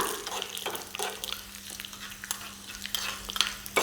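Four dried red chilies fry in a pan of hot oil, giving a steady soft crackle and sizzle with light stirring scrapes and a low, constant hum beneath.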